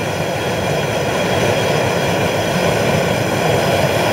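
A Bass Pro Shops propane burner for a beer or turkey fryer, running with a blue flame and its air valve being adjusted, gives a loud, steady, close roar that holds without a break.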